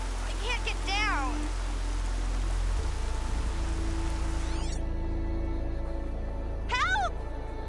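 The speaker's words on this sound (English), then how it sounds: "Rain's too loud to hear much." Steady, heavy rain pours down in a stormy outdoor scene of the video game Horizon Zero Dawn, a constant dense hiss that stays loud throughout while brief chirping and warbling calls rise above it.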